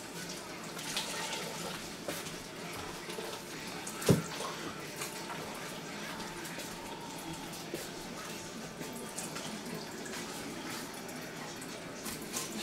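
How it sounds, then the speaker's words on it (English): Water running into a portable travel bidet bottle, a steady soft pouring and trickling hiss that continues throughout, with one brief knock near the middle. "Put a little bit of water in there."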